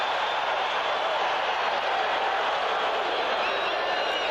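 A large football stadium crowd roars loudly and steadily after a fumble recovery in a 1988 Cowboys vs. Steelers game, a dense sustained wash of cheering throughout.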